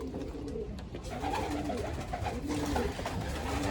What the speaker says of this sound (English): we will get the birds out for a little morning loft fly